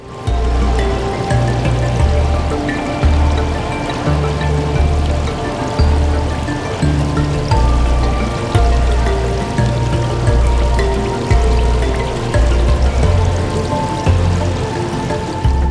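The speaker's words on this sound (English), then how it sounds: "it's the sound and the visual of a cascading waterfall" Loud, steady rush of a cascading waterfall at an indoor garden show display, splashing and churning continuously with dense droplet patter, no voices heard.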